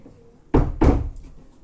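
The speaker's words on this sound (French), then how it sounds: "j'ai fermé la porte parce que ça fait du bruit" A door is pushed shut indoors, giving two quick, loud thuds in succession, close by, with a hushed room before and after.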